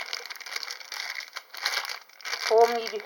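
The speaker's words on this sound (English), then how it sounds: "Oh, they've even put them inside Ziploc bags." Ziploc plastic bags crinkle and rustle as they are handled, in continuous close crackling bursts with a brief pause midway, and a person speaks over the sound.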